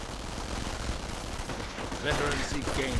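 MP40 submachine gun bursts in a WWII strategy game, a dense rolling rattle of distant gunfire that swells louder near the end, with mixed battle noise and no clear voices.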